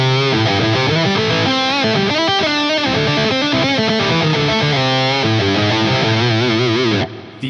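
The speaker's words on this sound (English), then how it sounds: "I'm running this through the compulsion distortion for kind of like a rocky Marshall style distortion." Heavy, crunchy distorted electric guitar through an Axe-Fx preset with Marshall-style distortion plays a dense riff, loud and saturated throughout before cutting off at the end.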